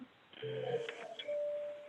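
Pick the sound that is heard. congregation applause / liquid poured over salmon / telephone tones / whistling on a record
telephone tones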